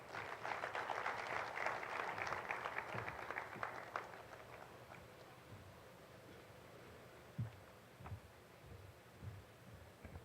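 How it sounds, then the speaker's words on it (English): An audience at the Uganda-South Africa trade summit claps in a brief burst at the start that thins out after a few seconds, leaving scattered faint claps and room noise. "Surely we can give him another round of applause."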